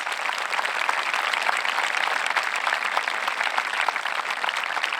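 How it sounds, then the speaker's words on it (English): Steady applause from an audience honoring 8th grade graduates at a middle school graduation ceremony, a dense even clapping that holds at the same level for the whole stretch with no voices over it. "join me in another round of applause for our 8th grade graduates"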